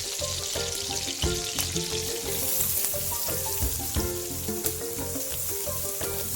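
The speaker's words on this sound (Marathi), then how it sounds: "कांदा चांगला तळून घ्यायचा" Chopped onion sizzles and crackles steadily in a hot pan while home-cooking methi fry, a dense continuous frying hiss with occasional sharper pops and stirring knocks.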